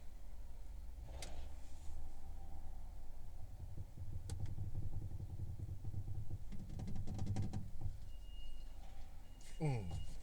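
Forklift driving and shifting stacks inside a trailer at a warehouse loading dock, a steady low engine rumble with clanks, whirring hydraulic sweeps and squeaks rising and falling over ten seconds, close and continuous.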